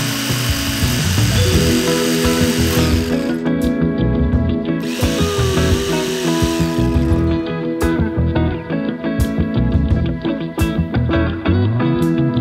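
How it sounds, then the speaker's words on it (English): A jigsaw fitted with a new blade cuts through a kitchen countertop during a Shasta 1400 camper remodel, a loud, close, buzzing motor whine that runs continuously with brief dips and restarts. "got a new blade on the old jigsaw. I'm gonna do some sawing."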